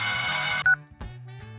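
A single loud telephone keypad tone, a brief dual-tone DTMF beep, sounds after a steady electronic hum, with soft clicks around it, on an ashram phone in a Haryanvi film scene.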